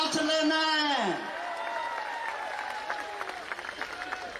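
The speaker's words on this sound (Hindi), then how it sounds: "ताली बजाओ" Applause from a live audience at a Hindi comic poetry (hasya vyangya) performance by a poet. A voice trails off at the start, then steady, sustained clapping and crowd noise fill the rest.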